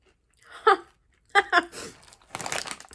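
Crunchy bites of a fried-egg-flavored potato chip from Spain, chewed close up in a few sharp bursts separated by short pauses, with a denser stretch of crunching at the end.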